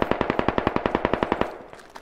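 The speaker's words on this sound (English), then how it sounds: "When I use rifle, I shoot in 3 shots." Rifle fire in the military shooter game Squad: a rapid run of about fourteen sharp, evenly spaced shots, loud and close, ending abruptly and followed by a faint echoing tail with two softer distant pops.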